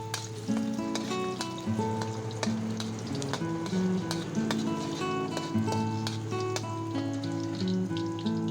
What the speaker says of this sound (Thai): ใช้ไฟร้อนปานกลางแล้วผัดพริกแกงจนสุกหอม